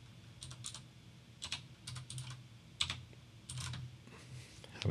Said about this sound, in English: Having trouble typing today.